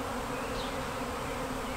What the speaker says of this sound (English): I'm gonna hope that some of these bees are gonna scout this area out and go back up there